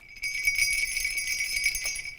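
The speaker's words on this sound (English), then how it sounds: "Outfit your horse with some bells." Sleigh bells on a horse jingle steadily and brightly, close by, in a continuous shimmering tinkle lasting about two seconds with no voices.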